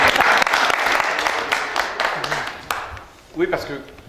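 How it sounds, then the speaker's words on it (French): An audience at a Carpentras strawberry brotherhood event at the Élysée bursts into loud applause that tapers off after a few seconds, with voices talking over the clapping as it fades. "ça s'applaudit."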